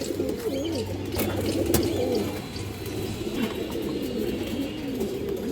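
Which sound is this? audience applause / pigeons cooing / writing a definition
pigeons cooing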